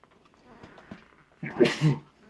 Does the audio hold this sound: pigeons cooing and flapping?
no